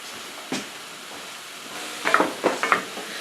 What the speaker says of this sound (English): So I'm using a wooden spoon, and I broke up the meat.